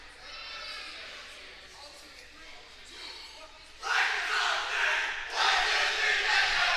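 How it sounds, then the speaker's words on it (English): A senior boys volleyball team shouts a loud group cheer in a gym, a muffled crowd murmur first, then the players erupting in two bursts of sustained yelling. "I think that was all 3 seniors leading that cheer"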